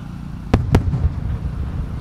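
Fireworks at the Omagari fireworks festival burst twice in quick succession, sharp and loud, then trail off into low crackling rumble and ambient crowd noise.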